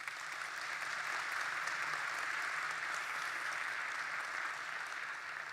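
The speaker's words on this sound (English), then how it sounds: "Let's give them a round of applause." An audience claps for a panel in a steady, even round of applause heard from a distance at low volume, fading slightly at the end, with no talk over it.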